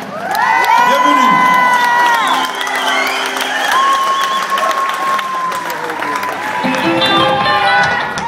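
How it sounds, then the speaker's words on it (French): A concert crowd at Métropolis in Montréal greets the band with loud applause, cheers, whoops and shrill whistles, a sustained roar of clapping and shouting. "applaudissements"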